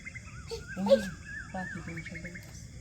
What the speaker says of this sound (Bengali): পাখির শব্দ উঠাও